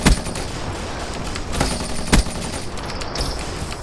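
Gunfire in the Black Ops 3 video game during a hardcore team deathmatch, with bursts of loud close shots at the start and around two seconds over constant busy game noise, and no talk.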